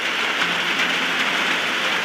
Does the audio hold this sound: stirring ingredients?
no